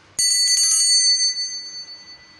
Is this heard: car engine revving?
no